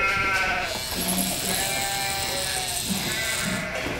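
Sheep bleat repeatedly on a farm at shearing time, loud nearby calls overlapping with a buzzing electric-shear-like drone throughout.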